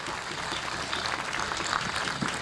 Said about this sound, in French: Tous les applaudissements des amis qui sont ici.